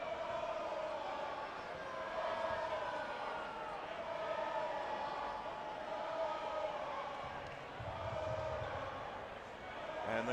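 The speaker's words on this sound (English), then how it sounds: "the crowd serenades the first name of the Toronto number 7" A basketball crowd at an OUA men's semifinal between Toronto and Queen's chants a Toronto player's first name in a steady rising and falling rhythm, a distant arena sound.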